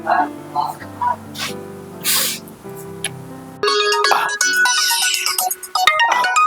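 A mobile phone ringtone starts partway through and plays loudly and continuously with a bright melodic pattern, following a stretch of people talking in a Telangana village scene.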